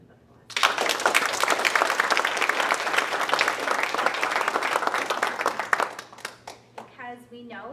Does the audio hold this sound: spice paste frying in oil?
no